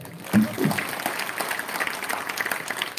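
Audience at a talk breaking into a short burst of clapping, fairly close and dense at first, then thinning under someone speaking.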